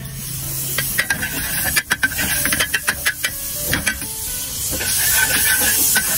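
Margarine sizzling in a frying pan while a snack is cooked, with a steady hiss under scraping and clicking from a utensil stirring nearby.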